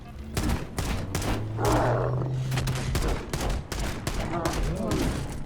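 Pistol fire in the Halo: Campaign Evolved game, a run of sharp, evenly spaced shots across the clip, mixed with other game effects and a low droning tone.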